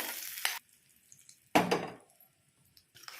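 Hot tempering is poured into a ridge gourd and tomato chutney, giving two loud, short sizzling bursts with quiet pauses between them and a faint fizz at the end.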